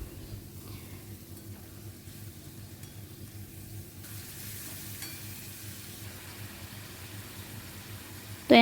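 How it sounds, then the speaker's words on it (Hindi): Chunks of meat and onions fry in a pan for a boti gosht recipe, making a steady, close, soft sizzle that grows slightly brighter halfway through and ends with a short clatter. "तो हम ना गोश्त को डाल देंगे और इसे अच्छे से 2 से 4 मिनट के लिए भून लेंगे।"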